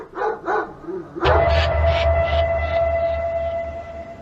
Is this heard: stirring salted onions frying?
no